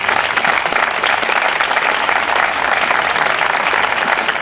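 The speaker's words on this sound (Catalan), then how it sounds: "Un fort aplaudiment per a ella." A crowd claps for a speaker at a Valencian political award ceremony, producing a continuous, loud, even roar of applause that holds steady throughout without a break.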